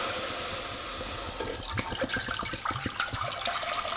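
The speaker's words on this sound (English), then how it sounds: "we're gonna add 2 quarts or a half gallon of organic milk to my pan here" Two quarts of organic milk pour into a heated pan, a steady liquid gush and splash that grows more turbulent and bubbly partway through, close and moderately loud.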